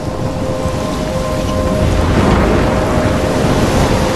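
A heavy storm from Life Is Strange roars with driving rain and a deep, rolling thunder rumble, a dense, loud wash of noise that swells slightly midway and stays constant throughout.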